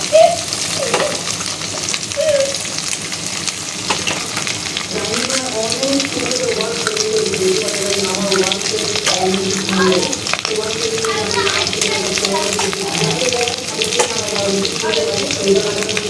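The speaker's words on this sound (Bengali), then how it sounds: "ডিমটাকে এভাবে ভেজে নিব" An egg frying in a pan gives a continuous loud, close sizzle throughout, with occasional scraping of a utensil and a voice talking over it.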